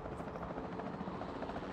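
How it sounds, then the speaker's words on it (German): Capture team helicopter in Jurassic World Evolution 2, a steady close rotor thrum with rhythmic blade chop holding at an even level throughout, no voices over it. "Dann ist es sinnvoll, ein Einfangteam-Helikopter zu nehmen."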